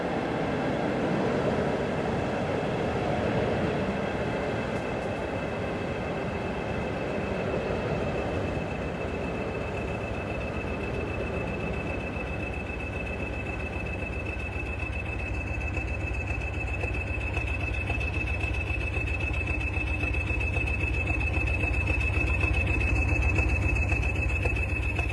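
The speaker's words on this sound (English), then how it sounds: "At 15:30 the train departs" A British Rail Class 37 locomotive, 37428, with 2304 top-and-tailing an empty coaching stock train from Saltmarsh depot in a train simulator game, pulling away with a steady engine drone, deepening rumble and a thin high squeal, no voices.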